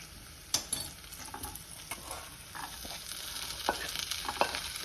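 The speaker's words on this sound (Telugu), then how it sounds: "ఇప్పుడు ముందుగా ఉడకబెట్టుకున్న పప్పు దీంట్లో వేద్దాం." Boiled lentils are stirred into a drumstick leaf curry in a pan over a steady background sizzle. A few sharp clinks and scrapes of the spoon sit close up, with no voices.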